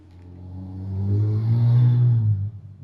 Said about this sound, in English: you guys probably heard that car on my mic